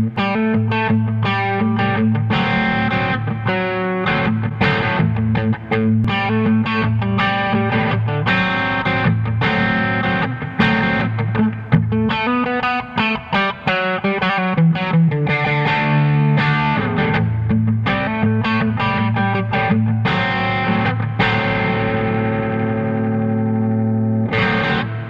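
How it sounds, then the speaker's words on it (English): Eastman T64 electric guitar played through its bridge P90 pickup with distortion and chorus-like effects, a loud, sustained stream of chords and notes running continuously for the whole stretch with no talking. "Here's the bridge pickup. This bridge P90 is fantastic."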